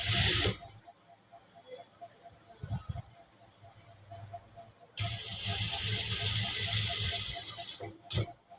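A sewing machine stitches along the edge of a blouse's lining, its mechanism rattling steadily up close in bursts, loudest during a long run in the second half, with quieter handling noise between.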